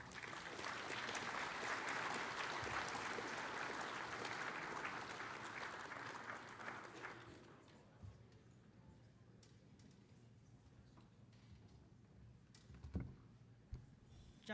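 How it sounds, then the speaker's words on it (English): Audience applause for a keynote speaker, a First Nations chief, at a conference, loud and steady for about seven seconds before fading to a quiet room with a few scattered knocks. "Let's give her a round of applause, everybody."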